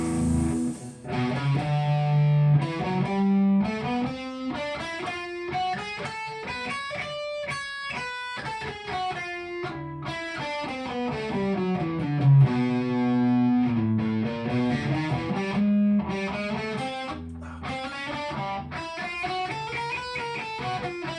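Electric guitar jamming through heavy distortion, a long run of sustained chords and bending lead lines with thick, saturated tone, loud and continuous with no talking.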